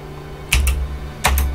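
Two short bursts of computer keyboard typing during a Lineage 2 online game session, each a quick cluster of clacking keystrokes, close and clear over a low steady hum.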